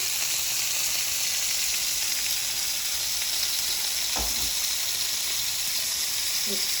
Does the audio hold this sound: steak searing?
yes